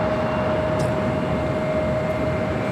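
A KLM Boeing 787-9 Dreamliner jet airliner at Los Angeles International Airport, flight 604 bound for Amsterdam, produces a steady broadband roar from a distance with a thin sustained whine riding on top.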